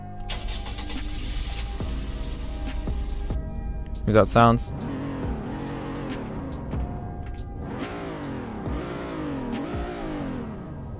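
An LX CVT trim car in the Greenville game starts with a short burst, then idles and revs repeatedly in rising and falling sweeps, close and loud, with a voice speaking over it.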